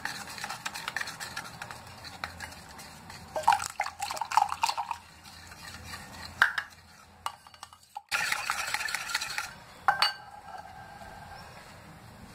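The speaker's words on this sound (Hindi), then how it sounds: "अब इसमें हम धीरे धीरे करके इसको मिक्स करेंगे।" Eggless sponge cake batter being slowly stirred in a bowl after milk is added, giving soft wet scraping and dripping with occasional clinks of a utensil against the bowl, steady and close with no talk.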